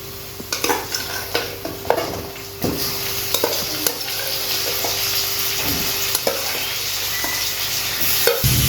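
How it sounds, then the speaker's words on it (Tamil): Dried fish and onions sizzle steadily in a hot pan while a utensil scrapes and stirs, giving irregular clinks over the constant frying hiss. "இப்போ அதை அந்த வெங்காயத்தை கூட போட்டு வதக்கணும்."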